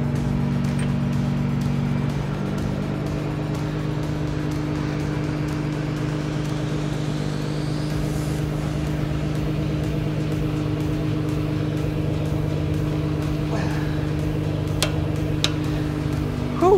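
A car engine idles steadily with its wheel axle nut being torqued, giving a constant low droning hum throughout with faint ticks and metallic touches on top, close by and without speech.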